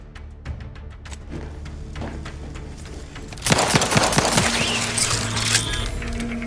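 Gunfire in the video game The Outer Worlds 2, scattered light cracks and taps at first, then a loud dense burst of shots and impacts that carries on to the end.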